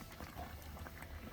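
Pumpkin porridge bubbles in a pot over an oak-log fire in a traditional rural firebox stove. Quiet, dense burbling and popping bubbles continue throughout the short moment.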